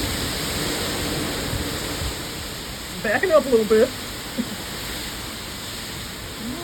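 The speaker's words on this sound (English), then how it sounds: "So much windy. There's already a river in the streets." A steady roar of wind and rain sweeps a flooded street where water runs like a river, a constant broadband wash with a brief voice speaking over it midway.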